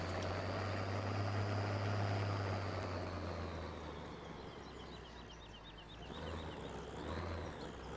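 A tractor engine in Farming Simulator 15 drones steadily with a low hum and a rising, shifting whine as it changes pitch, heard close with no talk.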